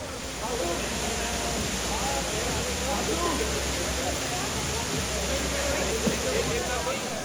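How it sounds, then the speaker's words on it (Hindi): A waterfall near Jibhi in Himachal Pradesh rushes with a steady, loud, broadband roar that fills the whole stretch without letting up, heard up close and outdoors. "दो तीन मिनट में हम पहुंच गए वाटरफॉल पर और ये काफ़ी खूबसूरत है।"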